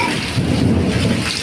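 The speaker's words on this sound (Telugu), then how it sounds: "వాన, గాలి వాన, బీభత్సమైన గాలి వాన" Heavy rain pours down with strong gusting wind and rumbling thunder during a storm in a village in Srikakulam district, a loud, dense, continuous roar with no voices.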